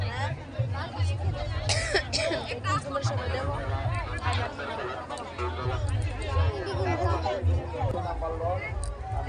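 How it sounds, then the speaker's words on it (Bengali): Dense crowd babble at a crowded Pohela Boishakh fair on a rainy day, many overlapping voices and chatter close by, with occasional sharp calls rising above the steady hubbub. "আজকে তো খুব ভিড় হয়েছে"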